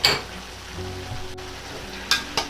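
Baguio beans hitting a hot pan give a brief sizzle at the start, then a low frying hiss with a couple of sharp crackles toward the end, close and fairly quiet, with no talking.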